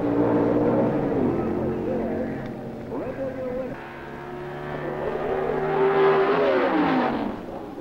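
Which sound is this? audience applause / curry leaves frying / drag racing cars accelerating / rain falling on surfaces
drag racing cars accelerating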